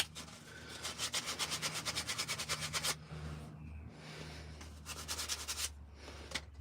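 A carved wooden spoon being sanded by hand in a workshop gives a rapid, rhythmic rasping in two bursts with a short pause between, close and fairly quiet.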